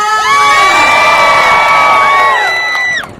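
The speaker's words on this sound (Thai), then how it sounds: "ขอเสียงกรี๊ดดังๆ สำหรับพี่น้องที่อยู่ที่มหาวิทยาลัยเกษตรศาสตร์แห่งนี้เลยค่ะ" Large crowd at a political rally at Kasetsart University in Nakhon Pathom cheering and screaming, with piercing high-pitched shrieks and whoops sustained loudly for about three seconds before cutting off.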